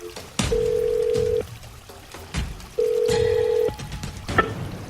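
Two long electronic tones ring out, separated by clicks and handset clatter, as a telephone connects a call for a live interview. The signals are loud and close, with short gaps of line noise between them.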